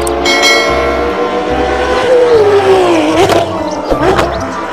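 Toy race car engine sound effect, an electronic revving tone that rises, then bends and falls with sharp bursts, loud and close over a steady background hum.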